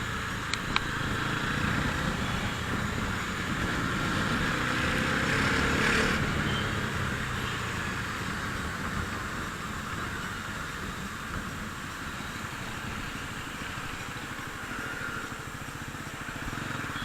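A 2025 Bajaj Pulsar NS400Z motorcycle engine pulls steadily as the throttle opens, a continuous mid-loud growl that rises gradually rather than snapping, with a brief swell around the middle and no talking over it.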